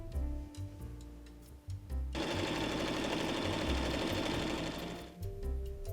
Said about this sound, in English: Fold and tuck the edges of the opening in the top of the bag and sew it together.